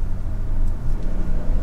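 A 2023 Hyundai Palisade Calligraphy AWD engine under full-throttle acceleration, a steady loud low drone with road noise, heard from inside the cabin with no talk.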